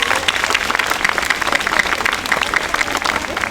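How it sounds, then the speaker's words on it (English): An audience applauds steadily at a school convocation and head-of-school investiture, with dense, even clapping from many hands filling the hall throughout. "applause."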